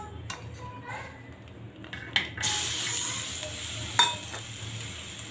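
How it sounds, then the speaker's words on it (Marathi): Green chillies, tomato and garlic roasting in a pan sizzle and spit, with a sudden louder hiss as the tomato goes in and occasional utensil clinks against the metal. "आपण यामध्येच टमाटर आणि लसूण सुद्धा भाजून घेणार आहोत।"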